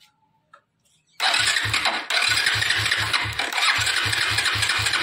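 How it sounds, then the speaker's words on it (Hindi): Bajaj Avenger 220 motorcycle with a CDI fault, its electric self-starter cranking in a loud, close, rapid rhythmic churn that follows a brief quiet pause and runs unbroken to the end. "तो थोड़ा सा सेल्फ मार के दिखाइए गाड़ी को।"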